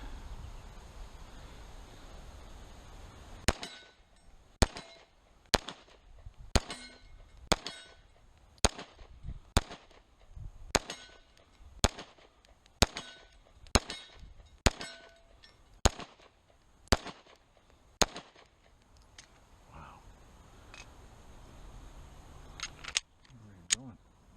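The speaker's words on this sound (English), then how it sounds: "Again, it's a compact pistol. Let's do it again." An M&P9 M2.0 Compact pistol fires at a range: about eighteen sharp, loud shots in a steady string roughly one every half second to second, followed by quieter handling noise and a brief voice.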